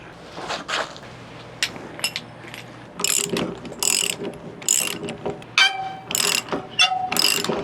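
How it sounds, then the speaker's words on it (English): A ratchet wrench fitted with a 1/4 inch Allen socket works loose the bolts on an Andersen Ultimate Gen 3 fifth wheel connection, giving close, loud bursts of rapid clicking in short repeated strokes. "I'm using a 1/4 inch Allen wrench connected that goes in the bottom here, and then 15/16 on both sides."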